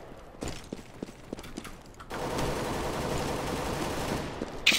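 Pistol fire in a Counter-Strike: Global Offensive match: several sharp, separate shots in the first half, then a steady, louder wash of game noise and distant action filling the rest.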